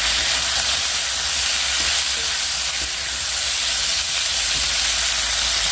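Flat beans and potatoes with salt and turmeric fry in a pan with a loud, steady, close sizzle that holds evenly throughout with no talk.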